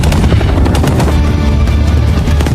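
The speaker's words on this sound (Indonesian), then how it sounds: "helikopter kembali muncul dan menembaki mereka" Rapid bursts of heavy gunfire from a helicopter in an action film, loud and dense, with a constant churning roar beneath and no voices.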